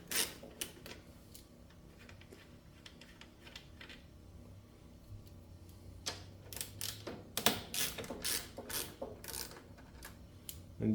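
Quiet ticking clicks of a ratchet undoing small 10 mm screws on an old Cub Cadet snowblower carburetor, a loose uneven rhythm that grows busier toward the end.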